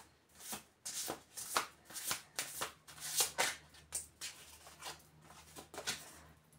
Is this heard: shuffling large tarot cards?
yes